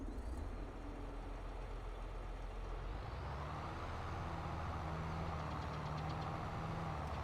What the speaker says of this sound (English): Let's get in our tractor.